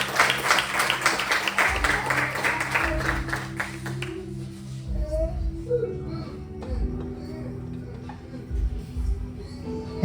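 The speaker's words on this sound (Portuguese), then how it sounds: "Uma salva de palmas para Jesus" A church congregation claps in a dense burst of applause for about four seconds before it fades out under a preacher's amplified voice and low background hum.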